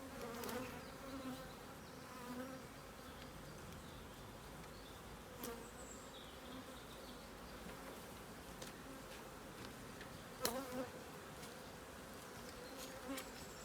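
Steady buzzing of many honeybees close by at an open hive, a dense continuous hum with occasional louder passes of single bees near the hive.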